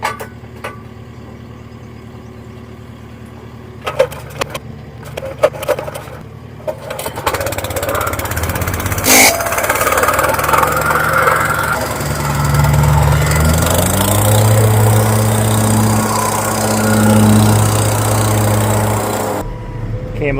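A teleskid engine cranks after some faint clattering, then catches and settles into a steady, loud, rough running drone close by, with no talking over it.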